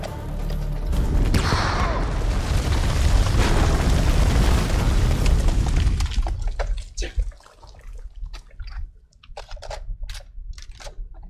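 A grenade explodes in a video game with a long, loud roaring boom that fades out, followed by quieter clicks and shuffling.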